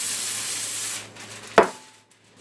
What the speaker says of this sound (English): I'm going to spray over vegetable oil.